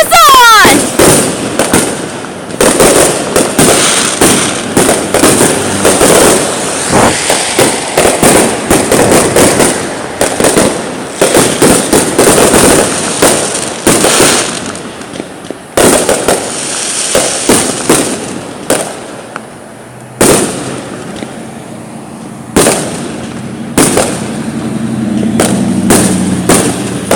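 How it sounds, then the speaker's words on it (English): Fireworks burst outdoors during a big display, dense rapid cracks and booms firing nearly nonstop and loud, thinning into scattered pops toward the end, with people talking and reacting underneath. "I'm just gonna record all these amazing and beautiful fireworks"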